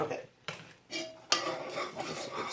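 A spoon stirring evaporated milk and brown sugar in a pot, making a few distinct metallic scrapes and clinks against the pot with a soft bubbling wash between them.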